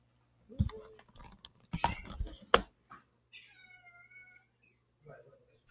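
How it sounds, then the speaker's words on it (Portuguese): A house cat wandering into a room meows once in a drawn-out, moderately loud cry after a few soft thumps and brief voice sounds, then a faint shuffle follows in a quiet indoor space. "só tirar o gato aqui"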